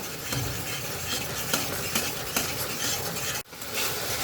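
Spiced vegetables fry in oil with Kashmiri chilli powder, loud constant sizzling and rhythmic scraping stirs of a spoon against the pan, close up, with a brief dropout near the end.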